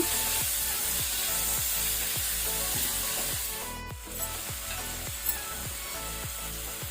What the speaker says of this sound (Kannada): ಟೊಮೆಟೊ, ಪುನಃ ಇದನ್ನು ಒಳ್ಳೆ ರೀತಿ ಮಿಕ್ಸ್ ಮಾಡ್ಕೊಳ್ಳುವ.